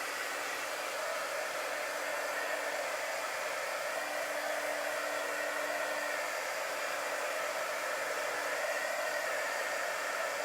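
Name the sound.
hair dryer drying chalk paste on a repurposed globe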